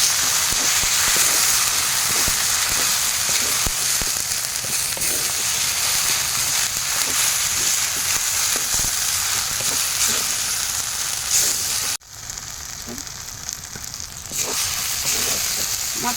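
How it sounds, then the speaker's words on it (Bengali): Spices with ground tomato, turmeric and chili powder frying in a pan for vegetarian soya tikka masala, a steady close sizzle and hiss that runs throughout, dipping briefly near the end before resuming. "মশলাটা ভাজা হয়ে এসছে,"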